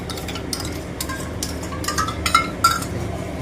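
A spoon stirs chicken masala with beaten yogurt in a pan, giving soft scraping and several sharp metallic clinks that grow louder toward the end, with no one talking.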